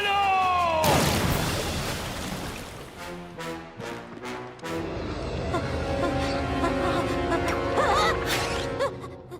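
A cartoon dragon cannonballs into lava, a sudden heavy splash burst followed by several shorter crashing bursts over bright music and vocal sounds.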